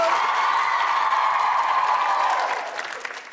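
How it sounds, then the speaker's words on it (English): An audience applauds and cheers for a prison officer's magic act at a staff show, a dense steady roar of clapping that holds level and then begins to taper off near the end. "give Jezzo a big round of applause, please."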